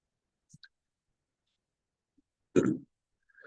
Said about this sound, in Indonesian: lagi batuk ini